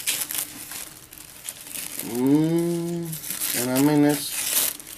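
A custom knife with a convex-ground edge slicing through paper, giving a dry crinkling rasp beneath a voice that talks over most of it.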